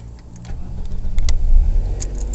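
A roughly 25-year-old car's engine idles as it warms up, a low steady rumble close by with a few faint clicks and rattles and no talking.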